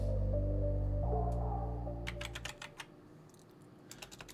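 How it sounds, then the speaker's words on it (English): Typing on a computer keyboard begins after a low humming drone fades out, with sharp separate keystroke clicks in short bursts, close and fairly quiet. "I don't know why I keep typing two words"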